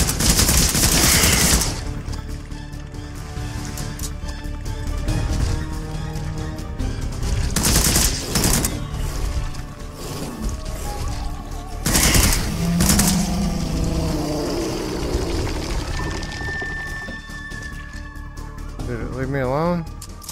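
Video game gunfire in Immortal Legacy on PSVR: dense bursts of rapid automatic fire mixed with loud blasts and mechanical noise, continuous and close, with a voice talking over it at points.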